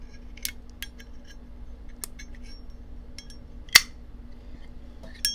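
Lid of an old D&Co. 801 flip-top closed-tank petrol lighter clicking open, a few faint light metallic ticks followed by one sharp snap, quiet and close.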